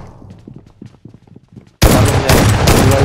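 Battle royale video game gunfire: after a stretch of quiet voices, a sudden, loud, dense burst of rapid shots erupts and continues steadily to the end.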